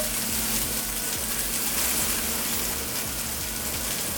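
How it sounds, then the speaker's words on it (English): Water poured into a pot of vegan Jamaican oxtail and butter bean stew, a soft steady gushing splash that runs continuously for a few seconds at low level without any talk. "I'm going to add some water to it."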